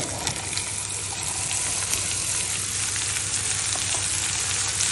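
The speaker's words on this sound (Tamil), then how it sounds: "இப்போ 2 நிமிஷம் நல்லா வதக்கியாச்சு" Bottle gourd and onions sauté in a hot pan, giving a steady, loud, close sizzle with faint stirring scrapes that runs unbroken throughout.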